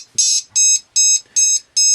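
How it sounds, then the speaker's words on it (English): A lost-model alarm buzzer on a Hobbymate 5-in-1 quadcopter power distribution board beeps loudly, five shrill, evenly spaced tones in quick succession. "it'll beep the buzzer and it'll flash the LED"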